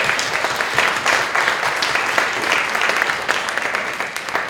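Conference audience giving a round of applause, a loud, continuous mass of clapping from a room full of people, steady throughout with no voices on top.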